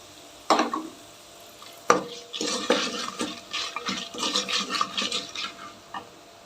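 Masala for a rasam is tipped into a pot and stirred, starting with a couple of sharp clinks, then a run of scraping, swishing stirring strokes close by.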